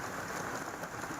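Heavy rain pours in a dense, constant hiss during a hailstorm in Dibrugarh, Assam, with no pauses and no voices.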